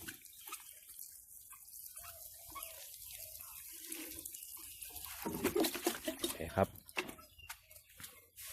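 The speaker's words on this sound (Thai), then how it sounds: "น้ำรดครับให้ชุ่ม" Water poured over straw beds for growing straw mushrooms, splashing and trickling softly at first, then building into louder, closer splashes.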